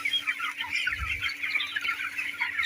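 Broiler chickens cluck in a steady, busy chorus as the flock runs to feed on a farm, with a brief low thud near the middle and no talking.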